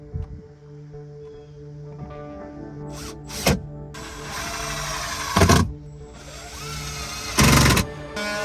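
A power saw cuts plywood for a van sofa bed. A steady mechanical whir runs under three loud, close bursts of cutting, and no one speaks.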